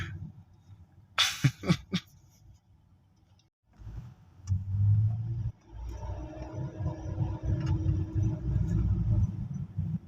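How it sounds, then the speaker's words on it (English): Street traffic in the Uptown area of Nairobi, Kenya: a steady low rumble of idling and moving vehicles fills most of the stretch, with a few sharp bursts early on and a brief quiet gap before the engine noise builds again. "More traffic, more traffic."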